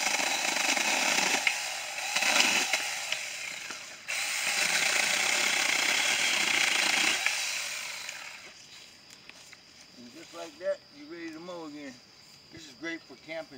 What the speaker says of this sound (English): You gotta bring no big chainsaw. We just bring this and you cut.